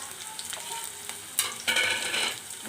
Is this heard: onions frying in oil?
yes